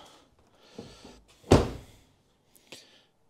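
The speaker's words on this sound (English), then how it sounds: "And then I think when you close the door" A 2022 Mercedes-Benz EQB 350 car door shuts with one solid, close thunk, followed by a fainter click a moment later, with a couple of soft handling sounds beforehand.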